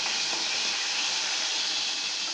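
Fennel seeds and dried red chilies sizzle in hot oil for a millet rice dish, a steady, dense hiss that holds evenly throughout with no voices.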